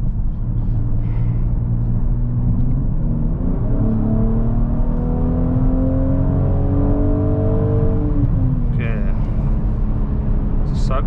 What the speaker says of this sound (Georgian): ახლა სიჩქარეს ავიღებთ ახლა ცოტა და შევხედავთ ერთი როგორ დადის ეს